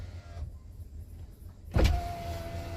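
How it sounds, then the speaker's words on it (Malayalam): A car's electric window motor, faulty and out of warranty, whirs as it drives the glass. A low steady hum runs briefly, then a sharp louder clunk is followed by a higher-pitched motor whine, all close up. "Power window കംപ്ലൈൻ്റായി."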